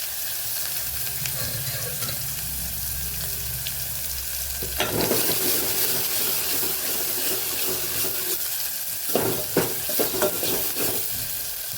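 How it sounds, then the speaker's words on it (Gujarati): Onion goes into hot ghee and oil already tempered with cumin and asafoetida for urad dal. A low rumble gives way to a steady sizzle, with spoon scrapes and clatters as it is stirred, and no speech. "પહેલાં આપણે ડુંગળી ઉમેરી દઈશું"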